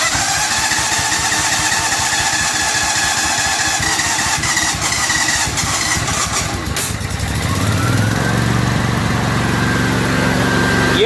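A Hobart generator engine, already warm, runs loudly and steadily, then the sound shifts partway through as it drops to a different running note and continues unbroken to the end.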